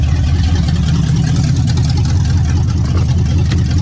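A car running on its first drive after an LS swap to a 6.0 V8 gives a steady, loud, low engine drone with constant road and cabin rumble throughout, and no talk.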